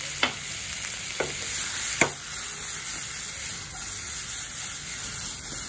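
Kadai masala stirred and frying in a pan for kadai paneer, a continuous hissing sizzle broken by three sharp scrapes of a spoon against the metal.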